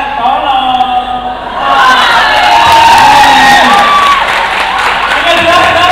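A large crowd of people, a group at a university anniversary event, erupts in loud sustained shouting and cheering, a dense roar of many voices that swells and holds.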